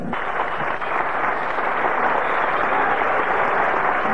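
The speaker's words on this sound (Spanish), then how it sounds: "¡El aplauso fuerte!" A stadium crowd at the 1985 Copa de las Américas athletics meet in San Juan, Puerto Rico, applauds a triple jump champion: a dense, steady wash of clapping that stays loud throughout.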